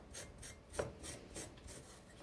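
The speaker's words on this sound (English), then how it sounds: "grab that steel wool and start buffing those bits out" Brass parts are buffed with steel wool in quick, regular back-and-forth scrubbing strokes, soft and close, with no talking.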